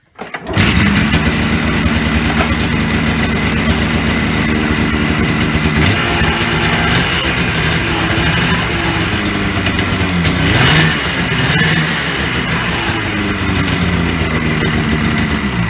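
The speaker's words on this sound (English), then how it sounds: "We started up the sled, jacked it up a little bit, the secondary reset" A Polaris snowmobile, jacked up off the ground, starts with a quick catch and then runs steadily at a loud, buzzing idle with slight rises in revs, close by and without talk.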